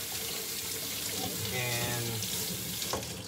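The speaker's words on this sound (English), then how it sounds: "Ginger. We wanna rinse it off." Tap water runs steadily into a kitchen sink as fresh ginger root is rinsed under the stream, a close, continuous splashing rush with a voice speaking briefly over it.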